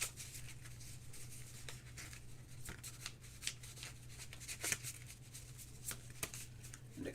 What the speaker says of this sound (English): We'll give it another quick shuffle.